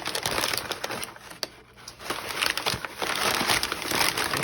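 Paper crinkling and rustling steadily as items are tucked under a sheet, close and continuous with sharper crackles throughout, no voices.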